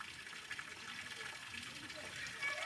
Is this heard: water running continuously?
yes